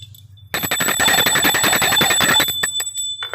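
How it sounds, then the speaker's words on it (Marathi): A worship bell rings rapidly and continuously for about two seconds, loud and close, during a Gudi Padwa ritual, then stops with a few lingering strikes. "नंतर घंटा वाजवतात"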